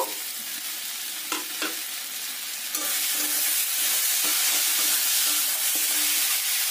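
Jackfruit seeds and potatoes fry with spices in a pan, giving a steady close sizzle with stirring scrapes and clinks throughout, growing fuller after the first few seconds.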